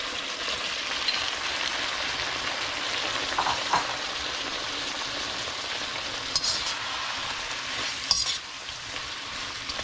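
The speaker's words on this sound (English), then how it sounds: "Add the juice from the shrimp a little bit." Shrimp juice is poured into a hot frying pan for shrimp with mayo sauce, and it hisses and crackles steadily up close. Occasional clinks of a utensil stir through it, with no talking.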